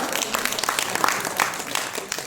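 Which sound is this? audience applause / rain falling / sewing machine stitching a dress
audience applause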